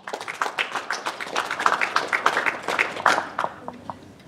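Applause at a shooting competition final honoring a shooter, a short burst of scattered hand clapping from a modest audience that builds, then thins out and fades within a few seconds.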